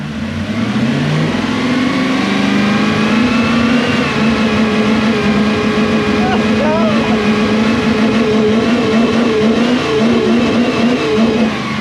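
A Toyota Celsior (Lexus LS400) engine with an airflow meter fault revs up loudly, its pitch climbing in the first seconds and then holding a steady high drone with slight wavering throughout.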